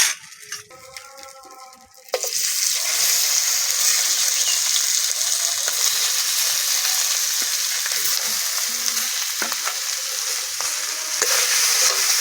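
Mashed potato and onion mixture hits hot mustard oil in a kadai with a sudden loud sizzle. The close frying hiss and crackle then carries on steadily, after a short tonal sound at the start.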